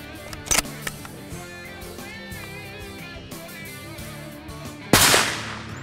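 A hunting rifle fitted with a thermal scope fires a sharp, loud shot near the end, preceded by a smaller sharp crack early on, over a quiet outdoor background.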